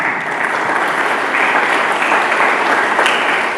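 A church congregation claps together in sustained, dense applause, steady and fairly loud throughout with no voices standing out.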